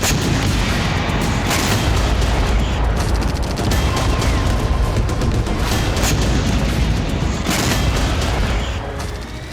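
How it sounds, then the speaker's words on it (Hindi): Rapid, heavy booms and blasts follow one another in a dense, continuous barrage in Feodosia, Crimea, during wartime attacks, loud and reverberant, with no voices heard. "एक के बाद एक कई धमाके क्रीमिया के फेदोसिया में सुने गए"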